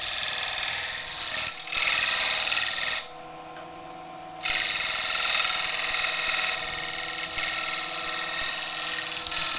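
A wood lathe turns a wooden table lamp while a skew chisel cuts. A loud, steady high whine briefly drops away near the middle, then resumes at full strength.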